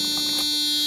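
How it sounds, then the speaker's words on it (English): Warning buzzer chiming inside a Mercedes-Benz W140 S500 cabin, a steady, loud electronic tone sustained through the whole second with no talk over it. "Buzzer annoying you yet?"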